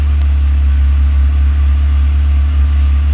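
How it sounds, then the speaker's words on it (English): Ferrari 360 Spider engine idling with an alternator excite cable being connected, giving a loud, steady, close-up low hum and drone that holds constant throughout. "when I connect this to the live, you can hear the load difference in the car"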